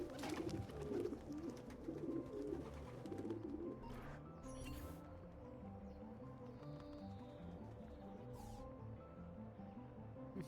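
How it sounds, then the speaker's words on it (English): Pigeons cooing in the video game Assassin's Creed 2, soft repeated coos over a busy ambient town background with faint clip-clop, fairly quiet. "Birds."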